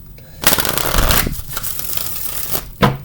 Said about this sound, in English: Let's give these about 3 shuffles.